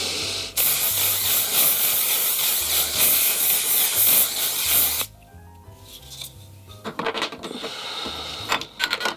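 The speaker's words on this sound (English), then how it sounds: "I'm gonna be using this One Size Until Dawn setting spray." One Size Until Dawn setting spray hisses loudly in one long continuous burst for about five seconds, then a few shorter, fainter spritzes follow close by.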